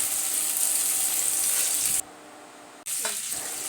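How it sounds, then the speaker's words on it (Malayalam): Sliced onion sautéing in a pan for a home-cooked pasta, a steady broadband sizzle that cuts out briefly partway through and then resumes. "സവോള നമുക്കൊന്ന് വഴറ്റി എടുക്കാം ചെറുതായിട്ട്"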